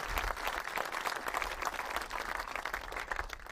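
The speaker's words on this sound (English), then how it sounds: "Give yourselves a round of applause" A crowd at an outdoor groundbreaking celebration for the Tidewater Landing project in Pawtucket breaks into applause, continuous crackling hand claps heard somewhat distant and fairly soft throughout.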